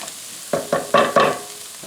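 Ground cumin toasting in a pan with ginger, onion and garlic for a sweet potato and cauliflower curry: four short stirring scrapes with a light sizzle, close and moderately loud, separated by brief pauses.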